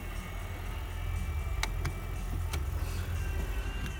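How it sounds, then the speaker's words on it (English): Toyota C-HR Hybrid 2019 engine running steadily, a low continuous hum with a few faint clicks over it, no speech. "that's the engine."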